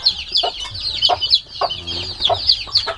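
A native mother hen clucks close by in a steady run of short, repeated clucks, alone with no talk.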